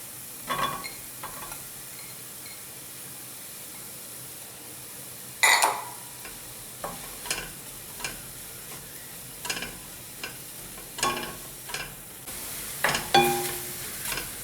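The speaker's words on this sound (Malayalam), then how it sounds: "പച്ചക്കറികളെല്ലാം വഴന്നു കഴിഞ്ഞു" Vegetables and mushrooms sautéing in a pan for chicken stroganoff with broccoli, a soft sizzle broken by irregular scrapes and knocks of a stirring spoon.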